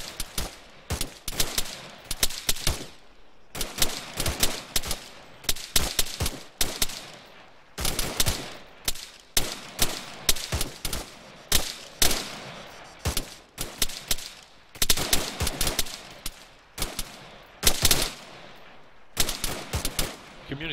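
Group gunfire during a deliberate fire drill in a close-quarters combat survival exercise: loud, sharp shots in rapid bursts and clusters, repeating irregularly with brief gaps throughout, no talking.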